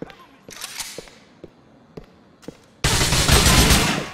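Gunshots in Grand Theft Auto 4: a string of sharp single cracks spaced about half a second apart, then a sustained loud burst of rapid gunfire filling the last second and a half.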